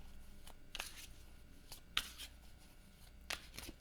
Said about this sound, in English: it's so bizarre to think that there's an intimacy in shuffling